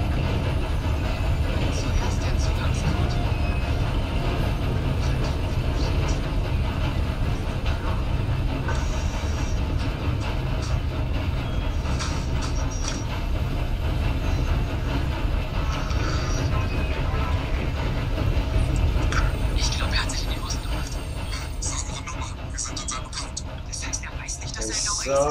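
A train stolen and driven in the video game Red Dead Redemption 2 rumbles steadily and loudly throughout, with a continuous low rolling drone, faint wheel clatter and occasional higher squeals, while a voice can be heard at times.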